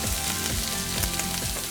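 Turkey and zucchini noodle burger patties sizzle steadily in a hot skillet, a dense, continuous frying hiss held close and loud throughout, with no talking.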